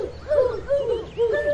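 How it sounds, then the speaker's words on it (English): Speckled owls at the Dallas Zoo giving a quick series of about three short, hollow hoots, close and moderately loud over a low background hum, no talking. "is an owl. There's two owls. Let's see. Speckled owl."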